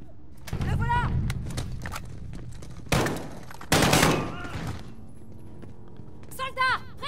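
Heavy gunfire crackles in Call of Duty: Modern Warfare, coming in two loud bursts around the middle, while voices shout before and after the shooting.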